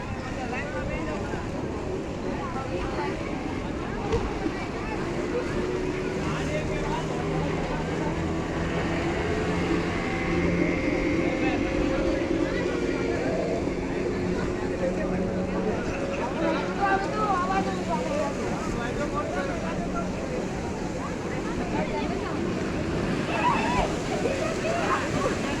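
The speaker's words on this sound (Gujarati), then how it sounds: "આમ જો આગળ જો કેવા મોજા આવે જો સામેથી" Sea waves hitting a boat at Dwarka, a continuous rushing slosh of water with engine-like rumble, steady and full, while people talk over it.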